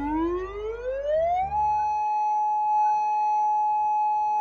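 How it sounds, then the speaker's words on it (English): A rising mechanical tsunami warning siren winds up to a steady, sustained wail and holds its pitch, loud and alone with no voices. "If you hear a siren, leave the beaches and harbor areas"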